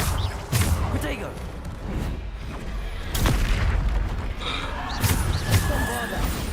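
Bombarda spell blasts in the Hogwarts Legacy video game, a run of loud booming impacts spaced a second or two apart over game combat noise, with a voice talking over them.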